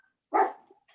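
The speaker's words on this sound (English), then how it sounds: "Sorry about the dog." A single short dog bark heard during a town council meeting, moderately close and fairly faint, standing alone in an otherwise quiet moment.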